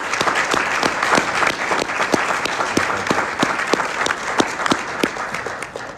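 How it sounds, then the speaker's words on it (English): An audience at a child abuse prevention breakfast applauds steadily, a dense patter of many hands clapping at moderate volume throughout with no voices on top. "Please give yourself a round of applause for being a part of the solution."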